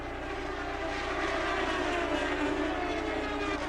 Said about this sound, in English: Could be a broken header on the engine that causes that exhaust note change